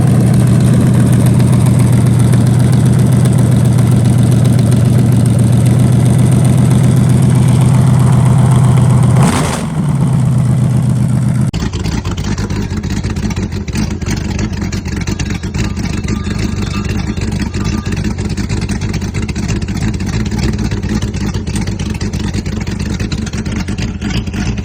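A Corvette engine fitted with Holley Sniper EFI runs on an engine stand, first cranking and idling with a steady low drone. After a brief surge it settles into a rough, lumpy idle that continues loud and close for about fifteen seconds.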